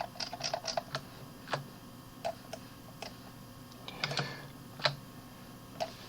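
Scattered clicks of typing SketchUp shortcut keys on a computer keyboard, irregular taps with short pauses, close and fairly quiet against a soft background hum.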